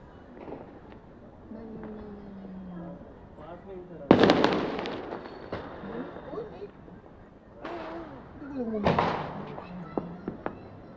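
Sharp firecracker bursts crack out amid chatter at a Karwa Chauth celebration, a loud cluster early on and more pops later, with voices talking throughout.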